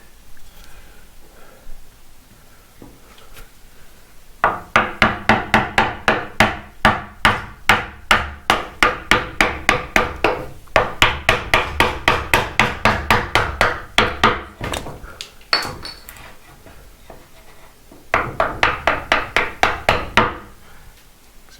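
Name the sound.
hammering a blunt chisel into wood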